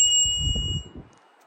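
A bicycle bell mounted on a Surly Corner Bar handlebar of a fat bike gives a single clear ring that decays over a second, with soft handling thumps beneath it.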